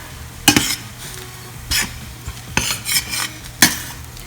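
Bati Surma frying in clarified butter over a low flame, with a soft sizzle beneath several sharp metal utensil scrapes and clinks against the pan at irregular intervals.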